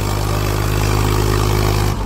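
A Mahindra tractor engine, shown in a cartoon hauling red mud, roars at high revs with a loud, steady, throbbing drone that holds level throughout and cuts off abruptly at the end.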